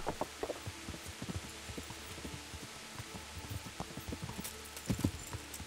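Horse hooves clip-clop in Kingdom Come Deliverance, an uneven run of soft, fairly faint footfalls over a quiet outdoor ambience, with a slightly louder cluster near the end.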